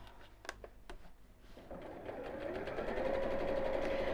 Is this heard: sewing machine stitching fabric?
yes